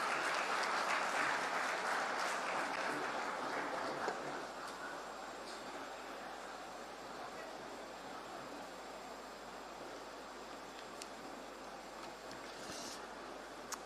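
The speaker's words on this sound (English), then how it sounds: "Everybody, be the huge round of applause," Dense, sustained applause from a large audience welcomes the ambassador at the inauguration of the De Heus feed factory in Rajpura. Loud at first, it eases slightly after a few seconds and continues as a steady wash of clapping.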